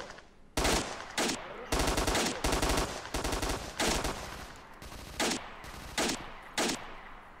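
Bursts of automatic rifle fire in S.T.A.L.K.E.R.: Shadow of Chernobyl, about eight or nine loud, sharp volleys, some in quick runs, others spaced apart, with a rattling echo trailing between them.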